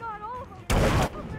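One loud burst of gunfire from the Hitman video game, lasting about a third of a second, breaks in after a stretch of tonal game sound.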